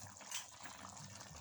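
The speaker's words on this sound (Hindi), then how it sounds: "और इसमें मैं डालूँगी ये पानी" Water poured into a cooking pot of peeled tomatoes while making chicken qorma, a steady close splashing fill with no talk.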